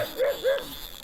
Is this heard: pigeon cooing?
no